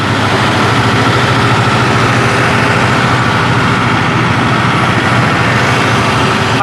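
Convoy of tractors rolling out on a farmers' march around Delhi, a loud, steady mass of heavy diesel engines droning and rumbling together without letup, no talking over it.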